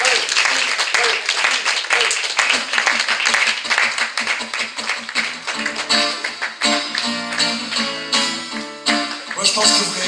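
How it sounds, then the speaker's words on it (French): An audience claps in a steady burst of applause, the clapping thinning out toward the end as a few tonal notes ring through. "je vais vous demander avant qu'on fasse cette petite pause un tonnerre d'applaudissements pour Régis aux percussions"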